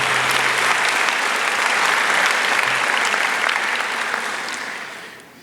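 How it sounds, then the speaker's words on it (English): A graduation crowd in Dunkirk, NY gives the teachers a round of applause. The clapping is loud, dense and continuous, filling the hall before it slowly thins and fades near the end. "I'd like you to give a quick round of applause to your teachers."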